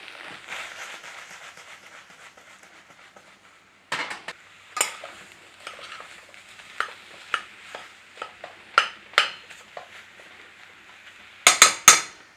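A spoon scrapes and knocks against a pan as boiled potatoes are stirred over the flame to dry out, with a soft steady hiss underneath and a series of sharp clinks growing louder toward the end.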